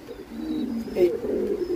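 A fancy pigeon sitting on its eggs gives a soft, low rumbling coo up close, rising once mid-way over faint background noise.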